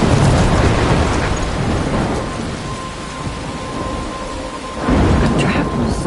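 Thunderstorm in a PS4 video game: loud rain hisses steadily, thunder rumbles through, and a fresh burst of storm noise comes near the end, with no talk.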